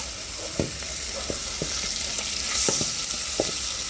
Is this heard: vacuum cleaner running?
no